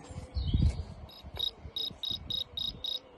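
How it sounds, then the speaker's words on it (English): Crickets chirping in steady, evenly spaced pulses, a high trill repeating about seven times, with some low rumbling noise at the start. "even the crickets thought it was hot too"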